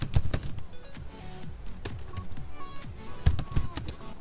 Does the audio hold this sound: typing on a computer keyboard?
yes